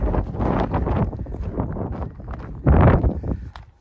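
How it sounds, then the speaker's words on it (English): Strong wind buffets the microphone outdoors on a trail run in Black Canyon in loud, rumbling gusts, with one especially heavy blast near the end. "it's super windy out, so I apologize."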